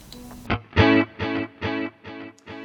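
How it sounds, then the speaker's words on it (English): Clean electric guitar through a Quad Cortex pedal set for heavy echo: a short sustained note, then a series of evenly spaced repeating chord pulses ringing close and clear, each repeat slightly fainter as the echo trails off. "you can hear that it's got a lot more echo"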